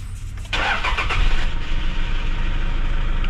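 A Toyota Innova with a 2KD diesel engine that has a check-engine fault cranks briefly and catches, then settles into a loud, rough, rumbling idle close by.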